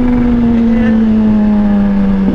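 A 1000cc naked motorcycle engine droning at a steady high pitch, loud and close, holding a sustained rev with a slight downward drift toward the end.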